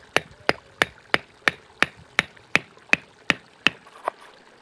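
A LionSteel M7 knife chops into dead wood with about eleven sharp, evenly spaced strikes, each a crisp woody knock close by, with quiet gaps between blows.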